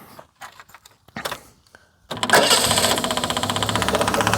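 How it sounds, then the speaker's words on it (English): Leyland Princess limousine engine cranking and catching, a few faint clicks then a loud start settling into a steady, rhythmic idle with a regular knocking pulse and a noisy fuel pump whine. "let's just fire her up, and you can listen to the lovely engine."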